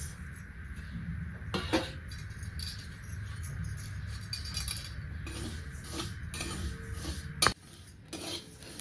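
Sesame seeds roast in a pan for a peanut-and-jaggery laddu, popping in scattered sharp clicks while a utensil scrapes and stirs quickly, with a few louder metallic knocks against the pan.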